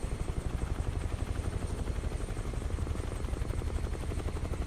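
A Huey helicopter in a multiplayer flight simulator game drones with a loud, steady rotor thump and engine whine, running continuously and close up with no talk over it.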